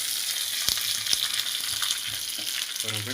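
Curry leaves crackling in hot oil while a tempering is made for a buttermilk curry with okra: loud, dense sizzling with a few sharp pops and spoon taps near the end.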